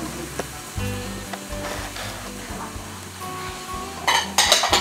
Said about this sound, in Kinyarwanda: iyo safuriya yamara kumuka ugashyiramo bwa bunyobwa